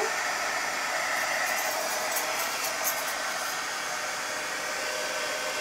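A hair dryer blows steadily on a paper bunting craft piece for a patriotic garland, a continuous loud whooshing roar with a few faint clicks and no speech.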